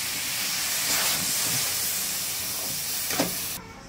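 Liquid milk hits a hot pan of semolina halwa with a loud, broad steaming hiss that swells and holds for several seconds before cutting off abruptly.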